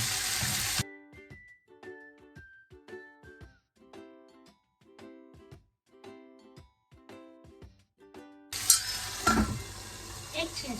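Ginger-garlic paste frying with cauliflower and buffalo meat in a curry pot, loud sizzling bursts at the start and end with a quieter stretch of tonal music between.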